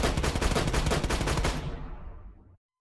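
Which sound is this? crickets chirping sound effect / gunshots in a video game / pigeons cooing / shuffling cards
gunshots in a video game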